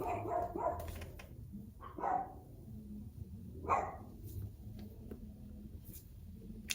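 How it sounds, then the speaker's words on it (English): Dogs bark indoors in several short bursts spread across the stretch, fairly faint and distant-sounding, with quiet gaps between them and no talk. "I'm just gonna talk over the dogs fucking barking because they don't want to shut the fuck up."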